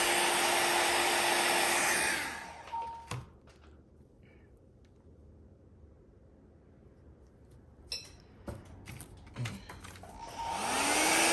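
A hair dryer blows loudly over alcohol ink art, then cuts off for several seconds of quiet with small clicks and handling noises as it is laid down before roaring back on.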